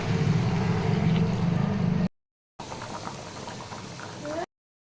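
A curry of jackfruit and potato simmers in a pot with water added, giving a steady bubbling, gurgling boil that runs continuously, cut by a brief silent gap before resuming more softly.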